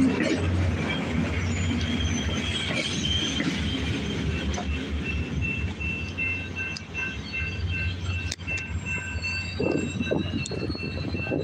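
Passing train near Santa Fe, a continuous loud rumble of rolling railcars with rhythmic wheel clatter and thin metallic squeals above it, sustained throughout.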